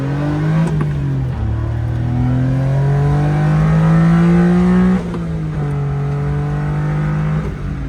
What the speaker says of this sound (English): a quick test drive of the Honda Beat after the clutch replacement.